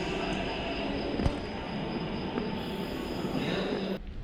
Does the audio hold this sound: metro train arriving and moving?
yes